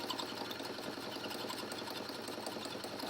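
A sewing machine stitches a seam on a fabric neck gaiter, a steady close whirring drone of the motor and needle running continuously without pause, no speech.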